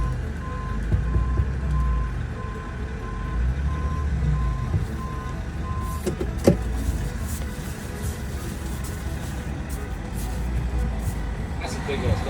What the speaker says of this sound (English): That's a big ass dump truck.